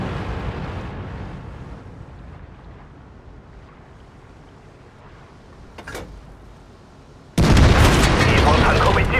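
In a T-34-3 tank battle on the Fjords map, a tank cannon fires with a short sharp crack, followed by a loud sustained blast and rumble that runs to the end over a low engine hum.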